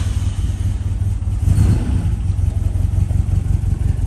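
A 1959 Triumph TR3A engine runs loud and close with a rough, pulsing low rumble, swelling briefly in a rev before settling back into a steady idle, with no talking.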